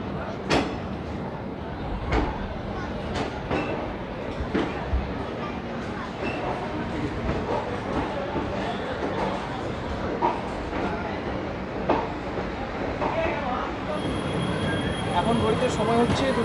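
A special passenger train pulls out of platform 3 at Kolkata station bound for Digha, heard from inside a sleeper coach as a continuous rumble dotted with sharp clanks and knocks, with voices chattering throughout.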